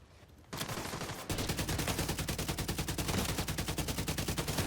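Rapid automatic gunfire from a firefight in The Division 2, loud and sustained, a short burst first and then a dense, steady stream of shots with no talking.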